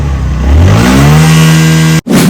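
A new motorcycle's engine revs up close and loud, its pitch climbing over the first second and then holding a steady high drone before a sudden brief cutout and restart.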